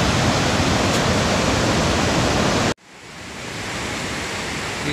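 A mountain river in Uttarakhand on the route from Bhatwari to Gangotri rushes loud and close as a steady roar that drops off abruptly partway through, then builds back up, with no talking.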